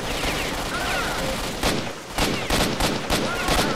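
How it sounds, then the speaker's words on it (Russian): Bursts of gunfire ring out in the game STALKER, with a dense volley first and then several separate sharp shots, fairly loud, with a voice speaking briefly between them. "Кто-то по бутылку стреляет, что ли?"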